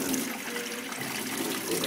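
Tap water rushes and sprays steadily beneath a bathroom sink, a continuous loud hiss with no pauses.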